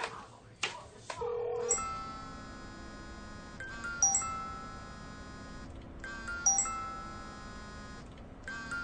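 A telephone ringtone repeats unanswered, a melodic electronic ring heard in three cycles with short gaps, fairly faint and with no talk over it.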